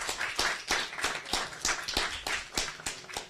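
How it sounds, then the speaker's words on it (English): Brief scattered clapping, a handful of sharp claps with quick rhythm, sounding like a small group applauding. "Shall we give them a round of applause?"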